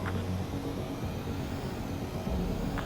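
Low, steady aircraft engine drone of a fighter jet coming in to land in the combat flight game Ace Combat 7, a constant rumble throughout with no voices.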